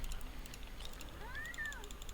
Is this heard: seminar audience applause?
no